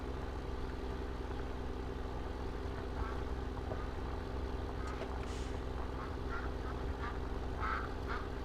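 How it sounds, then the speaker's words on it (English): Geese honk faintly and in scattered bursts in the early spring of a farm simulation game, heard under a steady low engine drone of a tractor running throughout. "A lot of geese heading back north here in the early spring."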